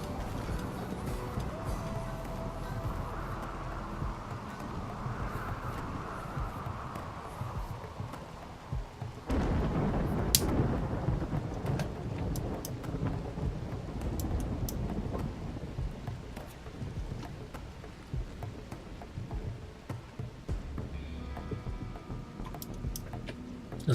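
A thunderstorm in the colony game RimWorld, with rain hissing steadily and a low thunder rumble swelling partway through, heard quietly and distant under soft game music.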